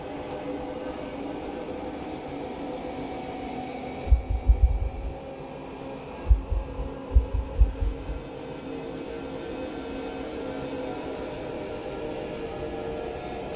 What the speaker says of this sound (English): I can hear your heart beating in fear.